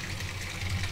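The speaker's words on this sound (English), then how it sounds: "So at this point, we can expose the film to light, let the water run." Tap water running steadily while rinsing freshly developed colour slide film at home with an E6 kit, a soft continuous rush throughout.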